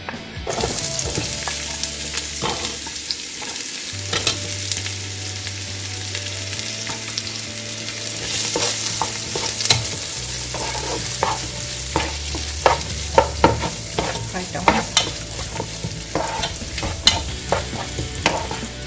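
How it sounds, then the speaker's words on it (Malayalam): Sliced onions sautéing in about five tablespoons of coconut oil crackle and sizzle steadily, with repeated close spatula stirs and scrapes against the pan and no talk. "നമുക്കിനി സവാള ഒന്ന് വഴറ്റിയെടുക്കാം. ഒരു 5 ടേബിൾ സ്പൂൺ വെളിച്ചെണ്ണ ഒഴിച്ചിട്ടുണ്ട്."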